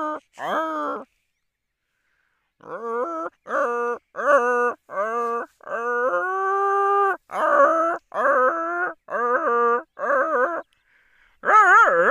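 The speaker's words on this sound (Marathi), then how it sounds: "भरपूर कुत्रे असतात, असं फिरत्यात सकाळ सकाळी." Dogs roaming outdoors in the morning give a run of drawn-out whining, groaning calls, several in a row with short gaps, close and fairly loud.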